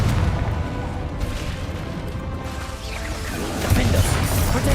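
A Confringo fire spell blast in a Harry Potter video game, a loud crashing burst that swells near the end over dense continuous game noise, with no talking.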